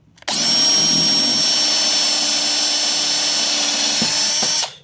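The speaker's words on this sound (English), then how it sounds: "Drill your hole." A power drill whines steadily at high pitch for several seconds while drilling a hole, starting abruptly and cutting off at the end, with no talking.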